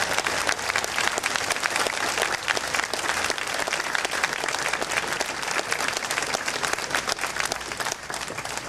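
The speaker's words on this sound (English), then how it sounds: "let's give all of those soldiers and their families a big round of applause" Sustained, dense applause from a large audience honoring soldiers and their families, an even roar of many hands clapping without pause for nearly nine seconds.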